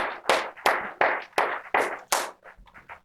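A church congregation claps in encouragement, heard as a series of about eight distinct, fairly close bursts in an irregular rhythm, followed by a few softer trailing claps.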